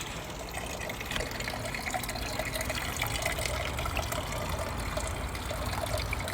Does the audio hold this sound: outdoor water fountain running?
yes